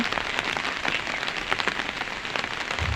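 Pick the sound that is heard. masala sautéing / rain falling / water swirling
rain falling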